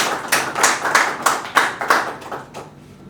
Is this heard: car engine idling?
no